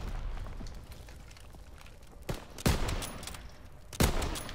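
Sniper rifle shots ring out in a snipers-only one-versus-one video game match. Two sharp, loud cracks come a little over a second apart, and a softer report sounds just before, over a low ambient game background.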